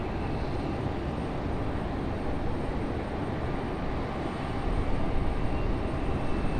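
A Sun Country airliner arriving at Raleigh-Durham airport, its steady broadband jet roar rising slightly toward the end, heard from a distance with no talking.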